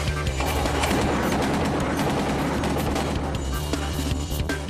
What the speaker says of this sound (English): if he needs to get somebody's attention, he has a 50 caliber Browning machine gun to do so